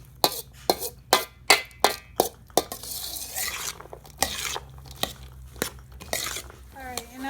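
Spoon clacking rhythmically against a bowl while salsa is stirred, about eight sharp regular knocks followed by softer wet scraping and a few scattered taps, close and fairly loud.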